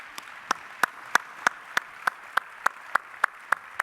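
A small audience at a launch event claps in slow, even rhythm, about a dozen distinct claps spaced roughly a third of a second apart, crisp and fairly close against a quiet background.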